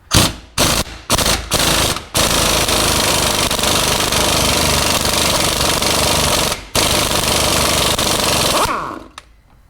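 A stubby impact wrench on a 29mm socket removes a Dana 35 pinion nut, loud and close: several short hammering bursts, then a long continuous rattling run that briefly pauses and resumes before winding down.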